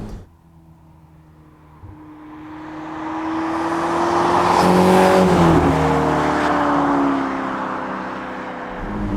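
A Ferrari Portofino hardtop convertible drives past, its engine rising from faint to a loud, full note as it accelerates, then easing off as it continues on.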